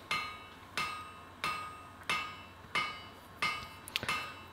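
Heavy broad-faced hammer striking hot wrought iron on an anvil while reproducing an early medieval chain ring, six evenly spaced ringing blows about two-thirds of a second apart, close and clear, with a small rattle near the end.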